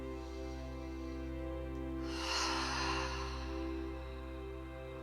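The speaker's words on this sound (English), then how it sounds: "taking a deep breath in. I invite you to do it in through the nose, out through the mouth" Slow deep breath drawn in through the nose and released through the mouth, a soft airy rush swelling midway, over a steady low droning music bed.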